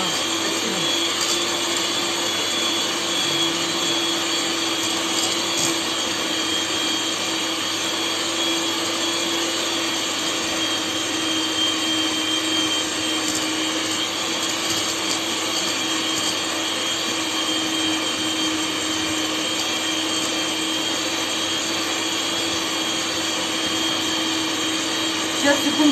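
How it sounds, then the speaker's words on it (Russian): Electric mixer whipping cream in a home kitchen, a steady loud whirring drone running unbroken for about twenty-five seconds, with a voice faintly audible beneath it. "Сейчас, секунду, я выключу миксер."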